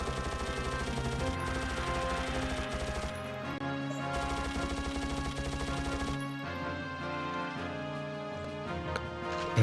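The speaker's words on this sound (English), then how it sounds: "You'll see the machine gun is crazy." Machine gun fire in the shooter Mortyr 2093-1944: rapid, loud automatic bursts with a steady rattling rhythm, cut by two short pauses, layered over a sustained music bed.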